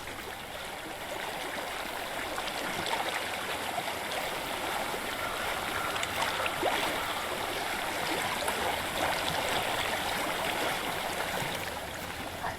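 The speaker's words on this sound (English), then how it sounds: "I hear water. Go to it." Steady, rushing stream water flows continuously in Hellblade: Senua's Sacrifice, a broad close wash of gurgling current holding even loudness throughout with no voices over it.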